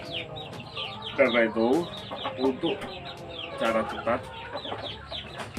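Fighting-breed chickens suffering from a respiratory illness cluck and make throaty calls in short bursts at close range, while someone talks over them throughout.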